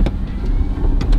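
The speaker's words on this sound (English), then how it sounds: "I've never driven a prototype like this before." A prototype race car drives past with a loud, close, steady engine drone and a few crackling bursts over the brief stretch.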